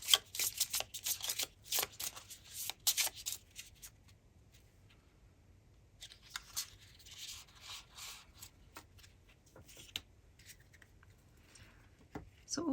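Tarot cards are drawn and shuffled in several bursts of close riffling and rubbing, with quieter stretches between them and soft sliding sounds.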